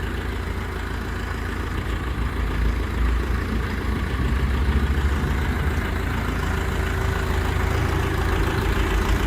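A Dongfeng 404 mini tractor with a cab idles close by, a steady low diesel rumble holding evenly throughout.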